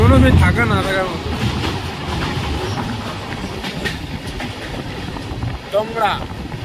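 The Rupashi Bangla express runs fast through a forested stretch, its wheels and carriages giving a loud, continuous rumble and rattle with faint clickety-clack, while voices talk briefly over it at the start and near the end.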